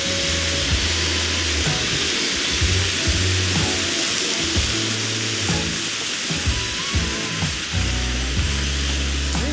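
Wild boar goulash meat sears in a large pan, giving a loud, continuous sizzle and crackle close up, with faint stirring scrapes and low thumps throughout and no talking.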